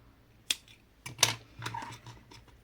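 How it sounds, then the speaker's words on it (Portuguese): Scissors cutting crochet yarn up close: a couple of sharp, crisp snips in quick succession, followed by softer rustling of the thread in a quiet room. "Agora, eu vou cortar o fio."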